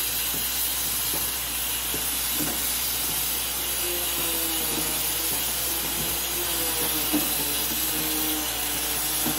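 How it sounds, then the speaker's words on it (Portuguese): Whole chicken searing in a pan for a chicken-and-mashed-potato lunch, a steady loud hiss of sautéing that runs throughout with faint scrapes and crackles underneath. "vou refogar ele para selar bem a carne e o temperinho penetrar"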